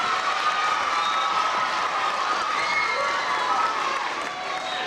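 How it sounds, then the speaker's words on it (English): An audience at a school D.A.R.E. graduation ceremony applauds parents, a continuous wash of clapping from a crowd heard at moderate distance, steady and fairly quiet, fading slightly at the end. "So let's give our mom and dad another round of applause."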